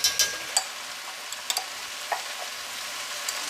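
A spoon stirs a bean stew of chicken broth, chipotle peppers and adobo sauce in a pot, giving a few sharp scrapes against the base over a soft, steady simmering hiss.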